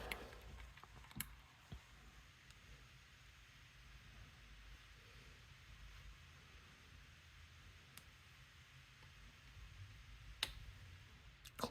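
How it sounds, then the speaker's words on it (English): Picking a Rosengrens 32A81 lock core gives a few faint, isolated small clicks scattered over a quiet hiss, with a sharper click near the end. "Click there and a little movement on the core."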